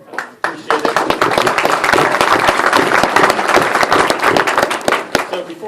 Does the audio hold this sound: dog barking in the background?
no